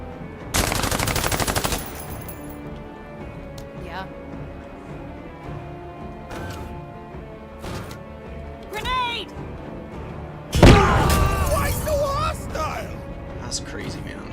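A grenade launcher fires at an enemy squad in a tactical war video game, with a loud burst of rapid shots, scattered lighter impacts, then another heavy volley, all under steady talk.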